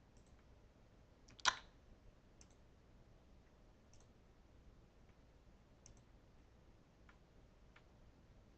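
A computer mouse gives one distinct louder click followed by scattered faint, sparse clicks spread across a quiet room.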